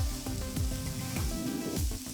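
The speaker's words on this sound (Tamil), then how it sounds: "அப்புறம் 5 மீடியம் சைஸ் தக்காளி பொடியை நறுக்கினது சேர்த்து நல்லா வதக்கணும்." Chopped medium tomatoes and onions sauté in a pan for pav bhaji, giving a loud continuous sizzle. Sharp scraping stirs cut through it at intervals, and no one talks.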